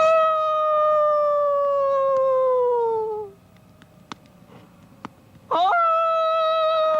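A man howls like a wolf at the moon, imitating its cry with a long, sad, sliding tone that falls away, then a brief exclamation and a second howl rising loudly near the end.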